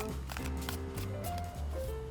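A deck of tarot cards is shuffled close up in a soft, continuous riffling and sliding of card stock, with no voices.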